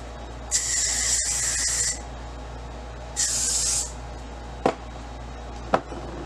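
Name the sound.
hair spray being sprayed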